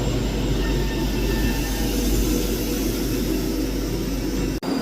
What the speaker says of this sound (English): Departing out now is the 12:10 Scotrail service from Edinburgh Waverley to Helensburgh Central